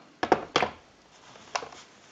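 A Western Electric 302 rotary desk telephone handset is set down onto its cradle, giving two quick hard plastic clunks followed by a softer rattle a moment later, close and fairly quiet.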